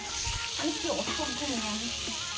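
Food sizzles steadily in a wok, a constant bright hiss running through the whole stretch while a voice talks over it.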